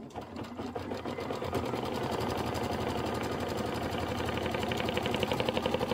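A sewing machine stitches a bag front placement line for a reusable project, running steadily and close with a dense, even mechanical rhythm throughout, no talking over it.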